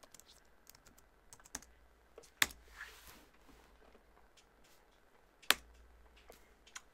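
Light, sparse key clicks from typing on a computer keyboard, a few scattered taps with two sharper strikes standing out, faint and close with no talking.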